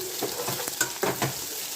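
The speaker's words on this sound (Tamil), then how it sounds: "நல்லா பொன்னிறமாக வதங்கணும்." Turmeric-seasoned ingredients sautéing in a pan until golden, a steady close sizzle with a few brief stirring scrapes and bumps, no voices.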